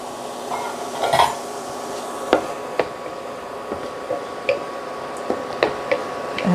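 Sliced canned olives tipped into a pot for Puerto Rican gandule rice, a few soft wet squishes followed by scattered light ticks and taps against the pot, close and without talk.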